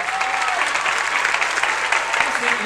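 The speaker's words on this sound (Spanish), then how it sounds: "Ya sé que me quieren, no me aplaudan" Theatre audience at the Gran Rex applauding steadily throughout, a dense continuous wash of clapping with a voice speaking over it near the start and again at the end.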